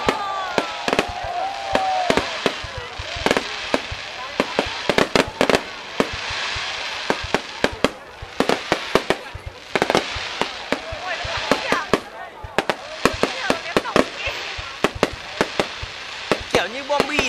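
Fireworks bursting in a 2013 display, with many sharp cracks and pops firing in rapid irregular clusters throughout, loud and close, while people talk and exclaim in the background.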